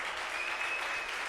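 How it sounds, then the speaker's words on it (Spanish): Congregation at a Spanish-language church service applauding, a dense, steady wash of clapping at an even level from start to finish with no voices. "Le dije que le dieras el aplauso al Señor, no a mí."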